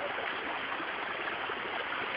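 Water flows steadily in a stream, a continuous close rushing wash with no breaks and no voices.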